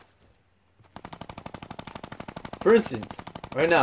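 Rapid, evenly spaced gunshots from a Fortnite Battle Royale match start after a brief silence and continue as a steady, fairly loud stream, with a voice talking over the later shots.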